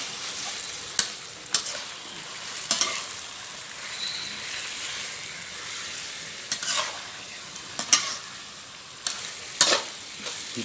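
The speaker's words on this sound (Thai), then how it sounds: "ผัดชาปลาฉลาม" Sand shark fish stir-frying with curry paste in a hot pan, giving a steady crackling sizzle broken by sharp, repeated spatula scrapes every second or two.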